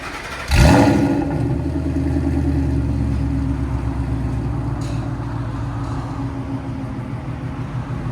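A 2012 Ford Mustang Boss 302 with an E85 tune, headers, an H pipe and a Corsa Sport muffler fires up with a loud burst, then settles into a steady, deep, burbling idle close by.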